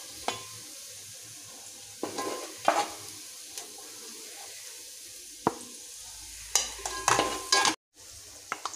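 Ground onion paste frying in hot oil for a vegetable biryani, a steady close sizzle broken by several bursts of stirring and scraping, with no talk.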